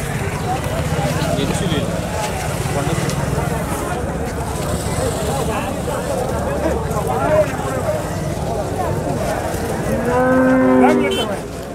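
A Jersey cow lows at a busy cattle market in Matrapalli, its drawn-out moo rising near the end over a constant background of crowd chatter and people talking.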